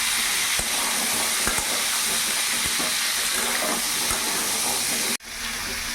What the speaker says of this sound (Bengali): কিছুক্ষণ তেলে ভাজা ভাজা করে নিয়েছি